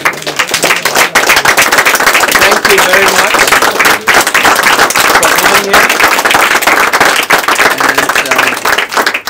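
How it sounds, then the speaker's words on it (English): An audience at a music performance and workshop in a Berlin synthesizer shop bursts into vigorous, sharp applause that holds strong for several seconds, while someone speaks briefly over it. "I would very much propose that we give a huge applause to Richard and Surachai"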